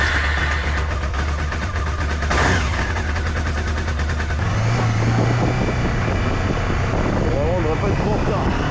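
A Honda CB500 motorcycle with its original exhaust rumbles steadily along, the engine note rising partway through, while someone talks over the ride noise.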